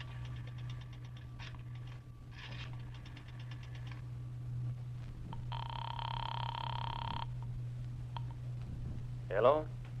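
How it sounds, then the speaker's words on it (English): In a radio drama, a payphone is dialed, then a telephone rings, with a bursting ring tone midway over a steady low hum, a few clicks and brief background voices. "I drove as far as the nearest drugstore, dropped a nickel in the slot, and dialed."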